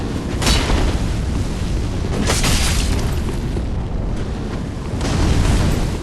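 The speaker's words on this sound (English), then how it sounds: "dodging the firebomb" A firebomb explodes in Dark Souls 3 player-versus-player combat: a sustained, loud rumbling boom with several sharper bursts rising from it, continuing for several seconds with no talk.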